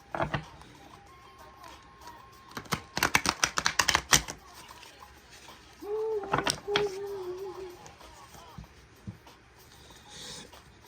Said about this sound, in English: So just to show y'all that I do shuffle the cards.